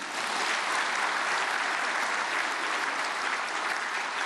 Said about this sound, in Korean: 우리 이민수 목사님 박수로 환영해 주시길 바랍니다